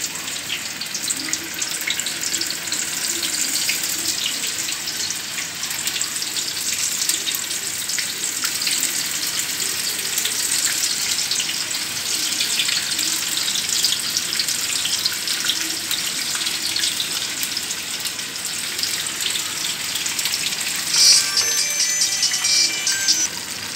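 Soya chunks fry in hot ghee with a dense, continuous sizzle and fine crackle that holds steady and close for the whole stretch, with no voices over it.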